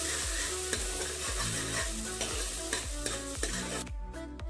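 Jackfruit paste cooks in ghee in a pan, giving a continuous close sizzle with rhythmic scraping strokes of stirring roughly every half second before the sound drops away at the end.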